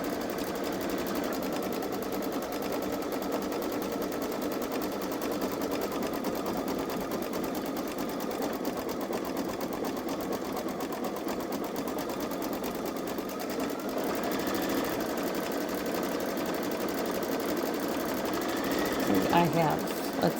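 A Babylock Solaris embroidery sewing machine stitches a square for a rag quilt, giving a fast, steady mechanical whir and needle chatter that runs unbroken and close up, with a few small clicks near the end.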